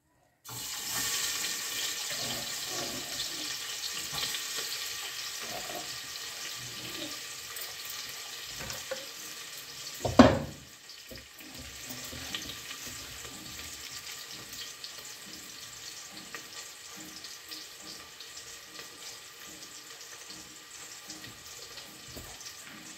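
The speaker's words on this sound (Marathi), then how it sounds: "कांदा टाकते." Onion frying in oil in a pan while chicken curry is cooked: a steady broadband sizzle runs throughout, with a loud clatter or splash near the middle as the onion drops in. The frying continues at moderate volume afterwards.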